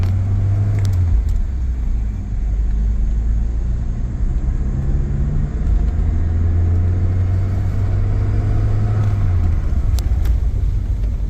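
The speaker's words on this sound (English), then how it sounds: "My first time driving this car." A Saab 900 SPG engine hums steadily while driving, with a low droning rumble throughout and a few faint rattles and clicks inside the cabin.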